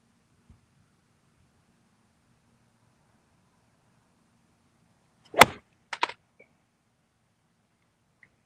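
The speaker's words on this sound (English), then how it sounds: "you can hear it and know that that's the sound of a golf ball hitting a palm tree leaf." A golf ball on a practice round strikes a palm frond: a single sharp, crisp slap, followed half a second later by a softer rustling double crackle, then near silence over faint outdoor ambience.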